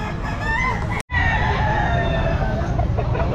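Young rooster crows at a Palawan pet market, a single drawn-out call up close over a busy background of other fowl clucking, with a brief dropout early on.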